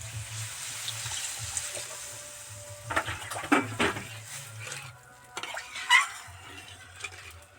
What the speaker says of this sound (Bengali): একটু বেশি পরিমাণেই জল দেব কারণ পেঁপে আর আলু একটু সিদ্ধ হতে লাগবে